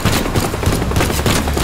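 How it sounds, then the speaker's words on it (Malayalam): Police gunfire in the game Teardown, a rapid dense fusillade of shots rattling continuously and loudly for the whole moment with no pause. "എന്തോ പോലീസ് വെടിവെക്കുന്നുണ്ട്."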